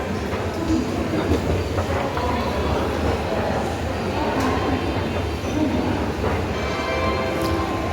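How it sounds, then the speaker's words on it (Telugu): A train at a railway station platform on a Hyderabad to Kashi route, with steady loud rumble and rail noise throughout, some wheel squeal, under faint voices and station ambience. "ఎంత బ్యూటిఫుల్ ఉంది రైల్వే స్టేషన్"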